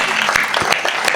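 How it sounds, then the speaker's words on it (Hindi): Brief burst of audience applause at a Hindi poetry gathering in a township, fast overlapping claps, loud and close, lasting about a second. "जोरदार तालियां"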